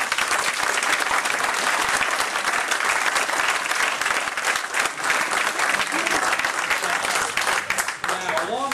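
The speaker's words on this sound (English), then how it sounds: "I'd like you to give a round of applause for Patrick" Sustained audience applause for Patrick Riley, a director honored at a Long Island evening event, dense clapping filling the room at steady loudness for several seconds before thinning slightly at the end, with some voices mixed in.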